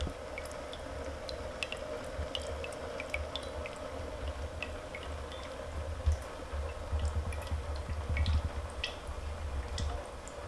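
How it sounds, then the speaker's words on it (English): Alcohol distillate dripping from a still during a Gotu Kola tincture extraction, faint irregular liquid drips and small splashes over a low steady hum. "And so we collect the distillate that is the alcohol actually."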